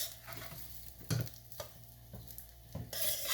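Rice being stirred and mixed in a pan with garlic, a spatula scraping and turning it in several distinct strokes over a soft background sizzle, with no talking.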